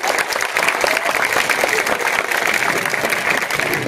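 Steady applause from a seated audience at a school farewell ceremony, dense and continuous throughout, close and fairly loud.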